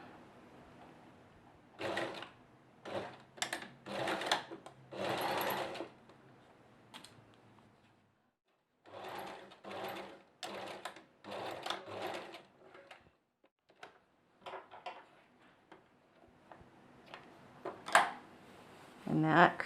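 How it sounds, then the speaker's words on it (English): Bursts of rapid mechanical stitching from a sewing machine, starting and stopping several times, with a quiet pause in the middle and light handling noises. "You can do this on a sewing machine or you can hand stitch."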